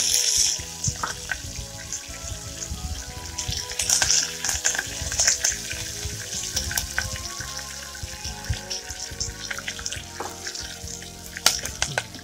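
Curry leaves sizzle and crackle in hot oil while brinjal chutney is cooked, a steady close frying hiss with sharp spits and pops throughout, plus the clink of stirring.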